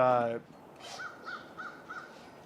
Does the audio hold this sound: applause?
no